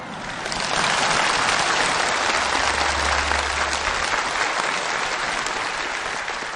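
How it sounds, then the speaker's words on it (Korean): A large audience at a May Day celebration TV stage show applauds enthusiastically, a thick, sustained wash of clapping that swells in quickly and keeps going for several seconds at an even level, with no voices over it. "박수를 보내줍시다."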